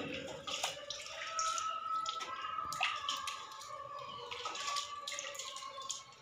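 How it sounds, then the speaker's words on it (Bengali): Chopped jackfruit pieces are rinsed with water in a kitchen, giving soft splashing and dripping with small wet squishes, quiet and close throughout. "এই যে জল দিয়ে আমি আটাগুলো সব ধুয়ে নিলাম"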